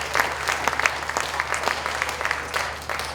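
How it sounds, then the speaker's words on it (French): An audience at a conference applauds a speaker, close and lively clapping with distinct individual claps over a dense crowd wash, steady before easing slightly at the end, over a low hum. "Je vous demande de l'applaudir."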